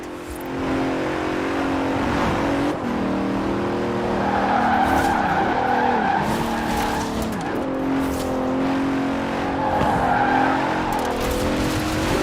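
A Bentley Continental in Forza Horizon 4 racing hard, its engine holding a steady loud drone while tires squeal and skid through repeated slides, close and continuous throughout.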